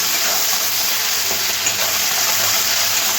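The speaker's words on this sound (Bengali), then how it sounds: "টমেটো তার কাঁচা গন্ধ দেওয়া অবধি ভাজতে হবে" Tomatoes fry in hot oil, salted and sugared, as a dense, steady, close sizzle that holds without a break.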